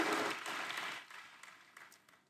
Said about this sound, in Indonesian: Boleh kasih tepuk tangan buat worship leader, choir, dan para musicians.